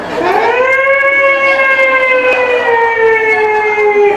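An ambulance siren sounds in heavy Medan traffic as a loud, steady wailing tone that rises slightly at the start and then holds for about four seconds, with no talk over it.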